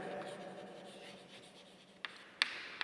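Chalk or a marker scratches across a classroom board while an example is written, producing soft, continuous, close scraping strokes with a few sharper taps near the end.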